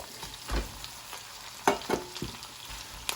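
Rice frying in hot oil for fried rice, a soft sizzle with scattered scrapes and knocks of stirring, fairly faint and close, no talking.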